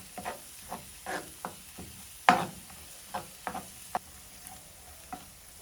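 Egg sautéing in a pan as it is stirred, with soft intermittent scraping strokes and a low sizzle, one sharper clack partway through, heard close and fairly quiet.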